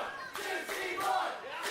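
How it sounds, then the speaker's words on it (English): Wrestling arena crowd at a pay-per-view match chanting names at wrestler Psycho Boy Fodder, a dense sustained roar of many voices with rhythmic shouted swells throughout. "the crowd, once again, with the name calling, chanting, directed at Psycho Boy Fodder"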